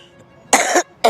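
A woman coughs twice, two harsh, loud, close bursts, the first longer than the second, separated by a short silence.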